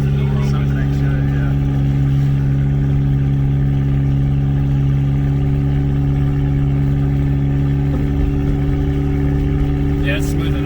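Turbocharged 2004 Chevrolet Cavalier on the road with the engine droning at a steady, loud, constant pitch from inside the cabin, the hum holding even throughout.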